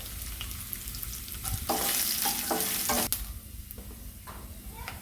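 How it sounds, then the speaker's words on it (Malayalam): Coconut pieces fry in a pan for a Kerala thoran, giving a continuous close sizzle. A stretch of brighter crackling and stirring scrapes swells in the middle and then settles back to a softer fry. "ഇനി ഇതിലേക്ക് ഞാൻ ആ തേങ്ങാക്കൊത്തിട്ടൊന്ന് ഒന്ന് മൂപ്പിച്ചെടുക്കാം"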